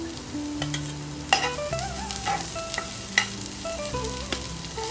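Vegetables for momos, including carrot, green chili, onion and cabbage, fry in a pan with a soft continuous sizzle and occasional stirring clicks, under steady background music.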